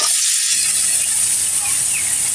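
Cauliflower florets go into a hot pan of fried spices over a wood-fired clay stove, and a steady broadband sizzle hisses continuously, loud and close, with no talking.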